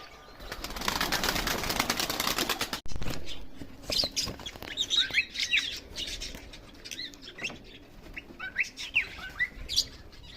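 Pigeons and chickens in a coop chirp and call in short, scattered bursts throughout, with a loud rush of wing flapping near the start, heard up close.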